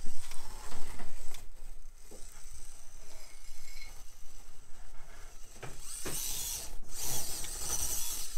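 A Texoma RC SCX24 crawler's brushless motor whirs and clicks as the small chassis climbs an obstacle, with uneven mechanical grinding that swells into louder, sharp whining bursts near the end.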